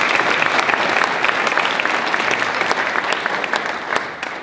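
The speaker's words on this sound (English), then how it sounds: "let's give them a round of applause" A round of applause from the audience at an elementary school ribbon cutting ceremony, many hands clapping in a steady, fairly close crackle that holds strong and then tapers slightly toward the end.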